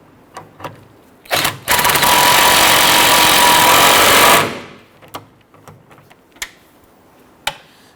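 Pneumatic impact wrench tightening the rear strut bolts on a Honda Ridgeline: a short burst, then a loud, steady rattling hammering for about three seconds, followed by scattered clicks and clanks of tools.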